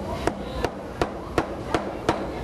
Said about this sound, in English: The tool I'm using is a regular broom maker's hammer.